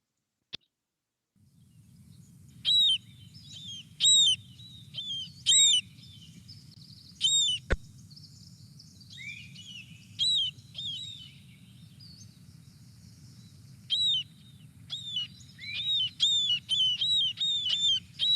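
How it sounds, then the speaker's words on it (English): Marbled murrelets calling in a redwood forest: sharp, high, repeated keer calls in bursts, sometimes several birds overlapping, over a steady low rumble of ambient forest noise, rising into a busy chorus near the end. "if there's a marbled murrelet around, it would sound something like this."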